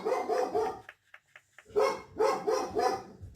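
Loud nearby dog barks in quick bursts, a pause with a few faint ticks, then another rapid series of barks.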